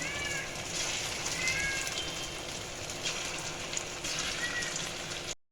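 Egg and potato batter fritters fry in hot oil, a steady quiet crackle and hiss of bubbling oil with faint high tonal squeaks over it, ending abruptly.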